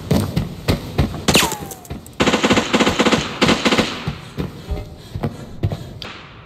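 Gunfire from a bot in the video game Arena Breakout, with repeated automatic bursts and separate shots spread across the clip, fairly loud and near, mixed with thuds and taps.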